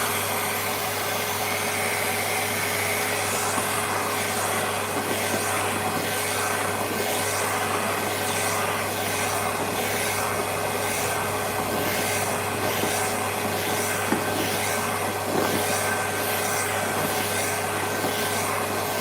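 Electric clippers trim a cat's fur to a longer 22 mm length during a grooming session, giving a steady, loud motor buzz that runs unbroken throughout with no talking.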